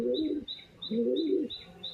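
Pigeons coo in two long, low rolling bursts close by at a loft, with a steady high chirping repeating over them, and no one speaks.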